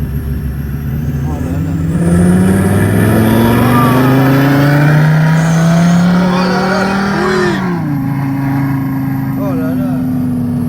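A Renault Twingo Cup race car's engine revs hard nearby, rising and falling in pitch with tire squeal, as someone speaks over it.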